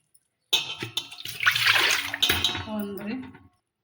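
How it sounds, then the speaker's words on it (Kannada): Water is poured into a pot of semolina, a splashing gush that swells and trails off over about three seconds, with a light clink of the vessel; close, with no voices. "4 ಗ್ಲಾಸ್ ನೀರು ಹಾಕ್ತೀನಿ ನೋಡಿರಿ."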